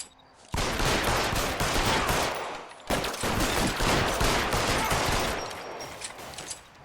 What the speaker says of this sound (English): Oh my god, he can take a lot of bullets.